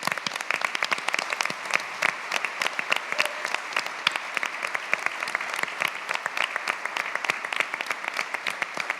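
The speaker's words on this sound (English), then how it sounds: "Round of applause." A large conference audience at a closing plenary applauds continuously for several seconds, a dense, even wash of many hands clapping without pause.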